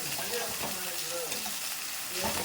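Curry leaves frying in hot oil for country chicken fry give a steady, loud broadband sizzle that holds through the clip with no talking.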